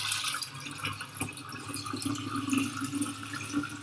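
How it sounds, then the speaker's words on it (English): Water is poured steadily into a container while making a kombucha elixir, a continuous close splashing trickle lasting several seconds. "let's go ahead and pour our water in"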